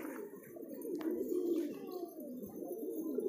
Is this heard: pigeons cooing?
yes